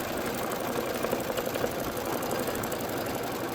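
A sewing machine stitches a foam tack-down line on a pumpkin pincushion, producing a continuous, even mechanical whir that runs steadily throughout.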